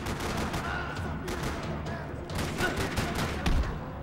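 Dense, continuous gunfire in the Max Payne 3 video game, a steady rattle of rapid shots and impacts filling the whole stretch at close range, with no clear talk over it.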